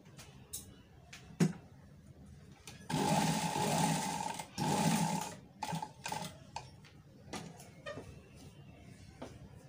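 Sewing machine stitching fabric along a frock neckline, two steady bursts of whirring run a second or so each, close and clear, separated by brief pauses and scattered light handling clicks.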